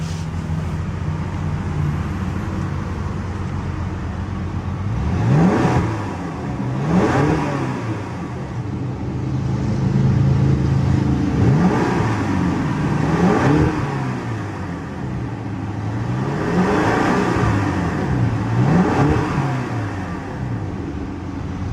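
A 2012 BMW X5 M engine revs up and settles several times, each rise in pitch swelling then falling back to a steady idle, close and fairly loud with no talk.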